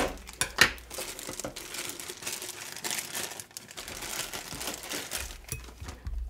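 Crinkling plastic and paper packaging as a PreCure Wonderful Pact toy set is unwrapped, close and fairly loud, with irregular rustling, tearing and crunching throughout and no talk.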